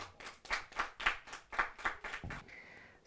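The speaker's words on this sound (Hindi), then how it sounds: "जोरदार तालियों के साथ।" Applause at a Hindi poetry gathering: a small group claps in a fairly even rhythm of distinct close claps for about two and a half seconds, then fades.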